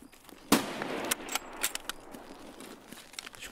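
Gunshots in the shooter video game Escape from Tarkov, a sharp crack followed by a scattered series of snappy reports of varying loudness, fairly close.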